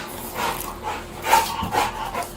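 A dog pants close by in quick, rhythmic breathy bursts, steady and fairly loud, with no talking.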